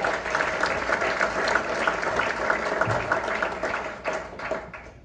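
Audience applause for the staff at a corporate comedy event, a dense steady wash of many hands clapping that runs the whole clip and thins slightly near the end.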